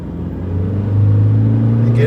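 Toyota Fortuner diesel engine after stage 2 tuning, revving up from low rpm under heavy throttle, a steady deep drone that rises and swells over two seconds, close and loud.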